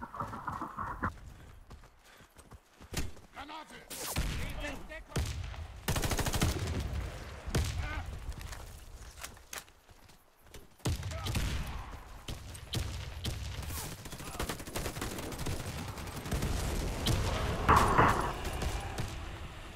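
Video game gunfire comes in scattered bursts and sharp single shots over about twenty seconds, with uneven clattering between them. A man swears in Russian now and then.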